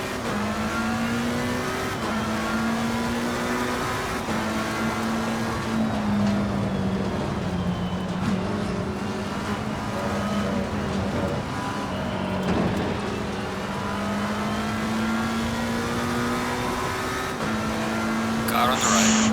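Ferrari race car engine roars steadily in a sim racing game, a sustained high whine rising and falling through gear changes, loud and continuous with no pauses.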